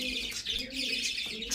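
Pigeons in a loft give soft, low coos alongside a few brighter chirps, close and fairly clear over a short stretch.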